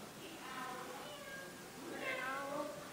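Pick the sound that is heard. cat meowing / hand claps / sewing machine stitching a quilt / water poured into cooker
cat meowing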